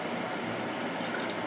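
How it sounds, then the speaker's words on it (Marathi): A single glass of water pours steadily into a pressure cooker holding Durga Ashtami prasad, a soft continuous splash and rush that stays close and even, with no talk. "आता यामध्ये पाणी घालूया."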